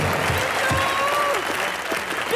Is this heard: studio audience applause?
yes